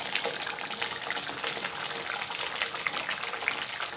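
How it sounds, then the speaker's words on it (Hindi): Water splashes steadily into a pan of homemade palak paneer gravy mixed with fresh cream, a soft, even gushing hiss that stays fairly quiet throughout. "अब हम इसमें थोड़ा सा पानी डालेंगे।"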